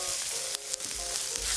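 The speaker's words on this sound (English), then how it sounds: "after 20 to 30 seconds of stir frying the black beans, we can add the onion and bell pepper" Black beans, onion and bell pepper stir-frying in a wok, a steady loud sizzle broken by a couple of sharp scraping stirs of the spatula.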